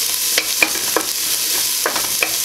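Garlic fries in a hot pan, a steady loud sizzle with several scraping stirs of the spatula spaced through it, close up and without talking.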